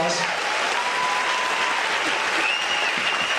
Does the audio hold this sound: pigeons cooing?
no